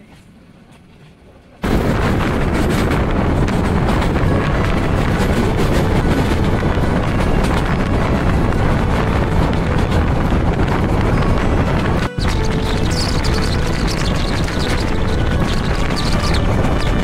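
A passenger train on the Dhaka to Chattogram run rushes through Gangasagar railway station without stopping, a loud continuous roar of wheels and wind with a brief break near the end.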